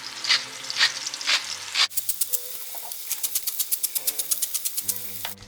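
Onions frying in olive oil in a pot, seasoned with salt and pepper, a close, steady sizzle broken by a few bursts of scraping and stirring, then a quick, even run of rhythmic clicks.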